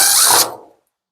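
Power tool backing screws out of the canister on a Samsung dryer during belt replacement, a loud brief whirring buzz that cuts off and fades within about half a second, no talk.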